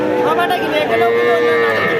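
A cow gives a long, low moo close by at a large cattle market, sustained across the whole moment amid faint background noise.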